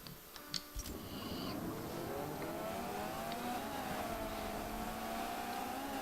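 Renault Clio race cars in a racing video game roar off the start line, a few sharp clicks giving way to a steady, rising engine drone that holds loud and continuous.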